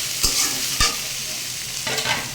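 Grated coconut frying in oil in a pan, with a steady sizzle broken by a few sharp stirring scrapes, close and fairly loud, with no voices.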